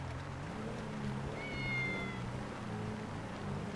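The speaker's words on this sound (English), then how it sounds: "the meowing. It's so loud." A cat meows loudly inside a moving car, a couple of drawn-out cries rising over steady road and engine rumble.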